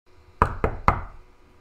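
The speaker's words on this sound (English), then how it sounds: "Piggy knocks on Ducky's door." Three sharp knocks on a door, close and crisp, with a brief uneven rhythm and nothing else around them.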